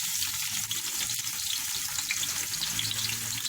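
Onions sizzle and crackle steadily in hot oil in a pan, a close, continuous frying hiss with no voices.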